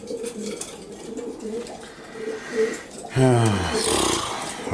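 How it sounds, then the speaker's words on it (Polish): Racing pigeons coo softly and repeatedly in an enclosed loft, with a louder, rougher burst of cooing near the end. "Jesteśmy w gołębniku lotowym gołębi dorosłych"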